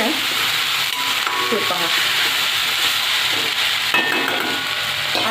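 Fenugreek greens, methi bhaji, sautéing in a pan with a loud, constant close sizzle and stirring scrapes, while a voice speaks briefly over it.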